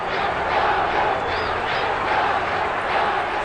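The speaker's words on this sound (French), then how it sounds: "Des millions de personnes criaient « Ne démissionne pas !»" A huge crowd outside Nasser's house chanting and shouting together in a steady roaring mass, rhythmic swells of voices at a distance, loud and continuous.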